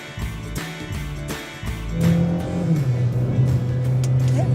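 A Renault Megane engine revs up from the cabin, building into a steady, rising drone that holds loud and close, with a few thumps and knocks early on.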